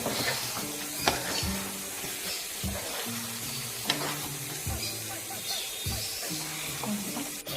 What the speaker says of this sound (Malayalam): ഇനി അടച്ച് കൊടുത്തിട്ട് നമ്മൾ നന്നായിട്ട് കുക്ക് ചെയ്തെടുത്തിട്ടുണ്ട് കേട്ടോ